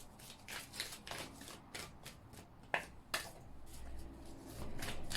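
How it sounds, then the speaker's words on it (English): Tarot cards being shuffled and drawn by hand, a soft papery riffling with repeated brushing flicks and a couple of sharper snaps as cards are pulled, quiet and close with no talking. "I just want to pull a few cards to wrap this up"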